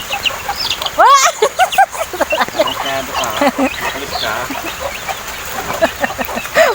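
Chicks and chickens cheep and cluck repeatedly in the rain close by, with bird calls overlapping densely all the way through. People talk at intervals beneath the calls.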